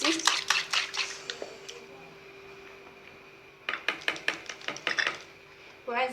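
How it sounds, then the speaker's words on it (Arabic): Salt and spices are mixed into eggs and oil in a bowl, a utensil beating in quick bursts of close, sharp clicks and taps against the bowl, with a pause of quieter hiss in between. "نحاولوا ندخلو هاد الملح والابزار في هاد البيض"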